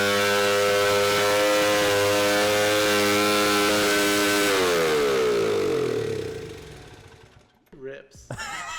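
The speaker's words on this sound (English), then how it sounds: "Ben got his XR100 started." A Honda XR100 motorcycle engine runs with a steady buzzing drone, then the revs drop and it winds down toward idle, followed by a few short loud bursts at the end.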